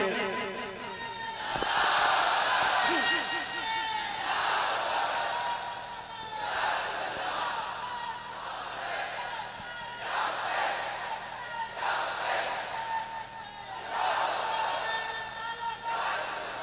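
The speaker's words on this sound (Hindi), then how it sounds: "वो एक बार इस महफिल में जरा खड़े होकर नारे हैदरी बुलंद कर दे, नारे तकबीर और रिसालत बुलंद कर दे।" A crowd at a Naat gathering shouts Naara-e-Haideri and Takbir slogans in loud chanted bursts that repeat every two to three seconds, with a low hum underneath.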